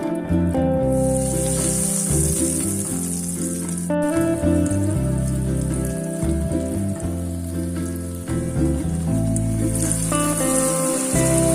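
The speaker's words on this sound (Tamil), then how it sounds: "இப்போ நம்ம இத ஆயில்ல போட்டு டீப் ஃப்ரை பண்ணிடலாம்." Green gram patties deep frying in a pan of hot oil at medium heat, a loud, steady bubbling sizzle that carries on without a break, with small crackles and spits rising and falling throughout.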